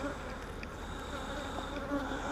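Honey bees buzz steadily in an opened hive during an inspection, a dense, close, continuous droning hum with no voices.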